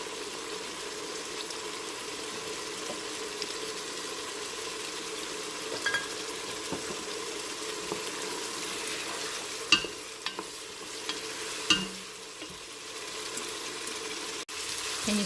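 Red wine reducing in a soup pot while making creamy tomato and basil soup gives a steady, soft, close sizzle, broken by a few light clicks and knocks of stirring, with no voices.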